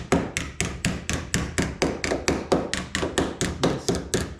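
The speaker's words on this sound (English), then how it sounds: "So just take a body hammer." Body hammer tapping the metal lip of a vintage camper shell, roughly twenty quick, evenly spaced ringing strikes at close range with no talk.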